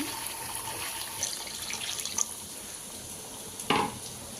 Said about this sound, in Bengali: তো গরম পানি দিয়ে দিলাম